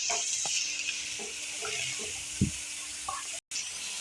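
Flattened rice stirred in a pan of refined oil with green chilli, a steady hiss of frying under scattered soft scrapes and taps of the spoon, with one louder knock near the end.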